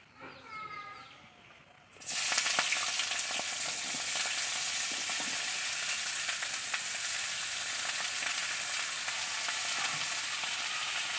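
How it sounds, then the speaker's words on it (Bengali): Vegetables dropped into hot oil for a drumstick and potato curry, a sudden loud sizzle bursting in after a short spoken moment and holding as a dense, even crackle. "সবজিগুলো আগে তেলে দিয়ে দেবো, শুধু তেলটা দিয়েছি"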